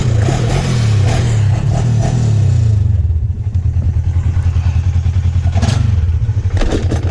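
Polaris RZR side-by-side engine revving loudly and close on a trail, a steady droning growl that eases then throbs with rapid pulsing, with clattering thumps from the ride.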